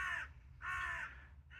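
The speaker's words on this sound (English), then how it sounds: "a crow outside." A crow outside gives two, then a third, faint hoarse caws from some distance over a low steady hum, with no speech.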